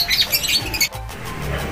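Racing pigeons return to the loft after a Sunday smash training flight. Loud, close squawks and chirps come in quick bursts, then a brief lull under a low outdoor rumble.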